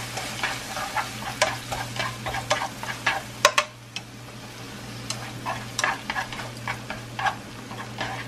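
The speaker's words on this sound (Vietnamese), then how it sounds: "Mình xào thịt cho nó xanh lại là ok." Meat being stir-fried in a pan: a soft background sizzle punctuated by repeated scraping clicks of a spatula against the pan, irregular and close, with no voices.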